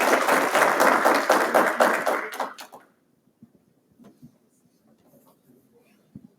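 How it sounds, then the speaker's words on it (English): Applause from a symposium audience for its speakers, a dense round of clapping lasting about two and a half seconds, then quickly dying into a quiet room with a few scattered coughs and small noises. "one last round of applause for our speakers"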